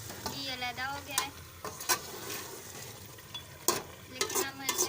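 Karahi gosht, Faisalabad style, with meat frying and being stirred in a pan: a soft background sizzle broken by repeated scraping strokes of a spoon against the metal, fairly close and moderately loud, with no talking.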